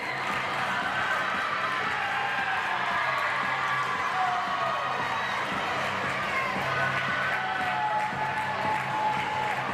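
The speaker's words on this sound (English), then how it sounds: "Let's give them a hand of applause" Audience applause and cheering for young swimmers at a live event, a steady wash of clapping and crowd noise lasting throughout, with voices mixed in.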